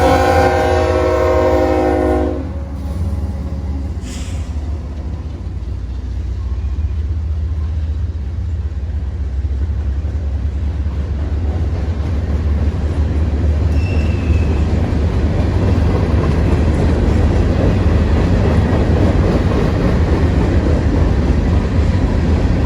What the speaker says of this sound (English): train Q647 slowly approaches the traffic congestion ahead